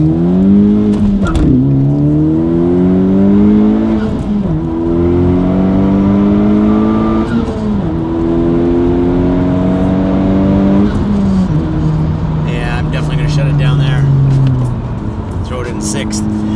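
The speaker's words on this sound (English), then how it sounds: "it sounds big, it sounds sporty, it's got great throttle response, it's got that deep, big, just a big exhaust note" Honda Civic Type R fitted with an MBRP triple rear exit cat-back exhaust, revving and accelerating through the gears with a deep, loud note, rising and dropping pitch with each shift, while a person talks over it.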